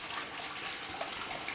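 Water rushes steadily through a swimming pool filter set to backwash, a continuous hissing gush of flow with no pauses.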